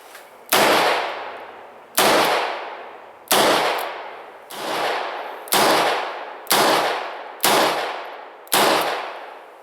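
A Ruger LCR revolver in 9mm Luger fires eight loud, sharp shots at a steady pace about a second apart outdoors, each crack trailing off into a ringing echo, with no talking.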